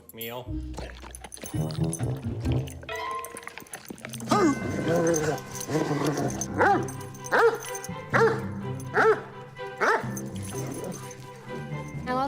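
A very large, heavily fed pet dog barks in repeated loud bursts over a busy background, with several closely spaced barks in the second half.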